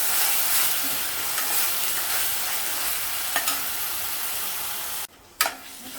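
Onion with ginger-garlic paste sautéing toward brown for a dhaba-style rajma masala gravy: a steady close sizzle with faint stirring scrapes, cut off by a brief near-silent gap just before the end.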